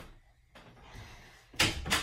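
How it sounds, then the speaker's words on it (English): A bedroom door is shut at home: after quiet rustling, two quick close knocks land in rapid succession, fairly loud against the low background. "I'm shutting my door"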